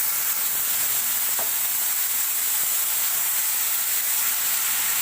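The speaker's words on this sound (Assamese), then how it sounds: "এতিয়া দিছোঁ মই আদা আৰু জলকীয়া।" Ginger and green chilli fry in a pan of hot oil, giving a loud, continuous sizzling hiss close to the microphone, with only faint stirring clicks beneath it and no voices.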